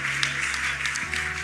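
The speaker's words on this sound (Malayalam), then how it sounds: "ഒന്ന് കൈയടിച്ച് ദൈവത്തെ സ്തുതിക്കുക" A church congregation claps hands in praise during a Malayalam sermon, a moderate, steady patter of applause close by under a faint background hum.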